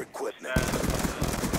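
Rapid automatic gunfire bursts out in a video game firefight after a brief lull with a voice, a dense rattling stream of shots that continues loud and close to the end.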